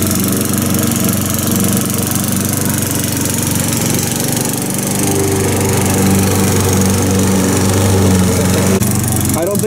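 Lawnmower engine running steadily and loudly at close range throughout, labouring while being pulled up a steep hill against its drive, with a constant droning hum and no speech.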